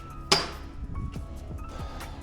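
Metal nuts and bolts from a Fuelwood Splitta 400 log splitter clink into a container during a log length change, one sharp bright clink followed by softer scattered rattles and light knocks, fairly close and with no talk.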